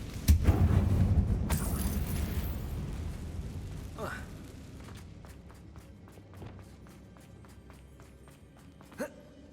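A Confringo fire spell explodes in the video game Hogwarts Legacy: a loud, close burst at the start, followed by a rumbling, fading roar, with a short voice line and a later faint thump.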